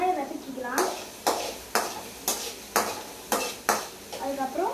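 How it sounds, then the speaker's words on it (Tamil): Onions sautéing in a pan, a spatula scraping and stirring in about seven sharp, regular strokes over a low sizzle, with a voice briefly speaking at the start and end. "வெங்காயம் வதக்கிக்கலாம்."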